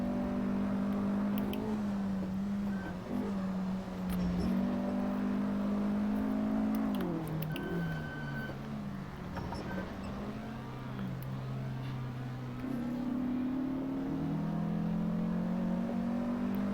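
A small racing car's engine in Assetto Corsa revs steadily and loudly throughout, its pitch rising and dipping with gear changes, while a faint voice speaks over it.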